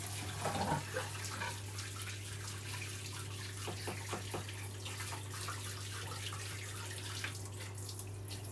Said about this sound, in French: Je suis en train tout doucement de me laver les mains.